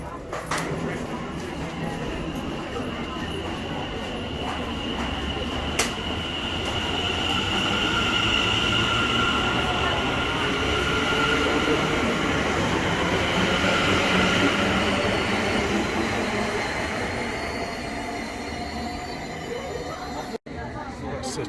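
A c2c passenger train pulls into a station, its broad steady rumble swelling in the middle and then easing, with faint wheel squeal and scattered chatter from people on the platform.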